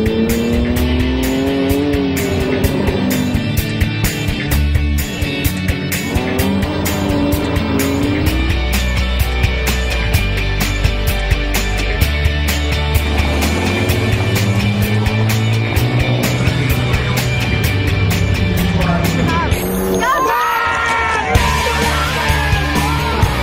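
A black car with a 200 brake horsepower engine, set in a London garage, revs and roars loudly throughout with shifting engine pitch and tire squeals near the end, alongside steady rhythmic music and no talking.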